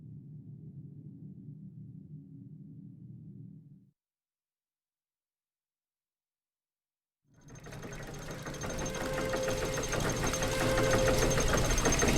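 A machine engine from the video game The Book of Unwritten Tales 2 runs with a low mechanical hum, cuts out to silence, then restarts as a louder, busier rattling drone that keeps building.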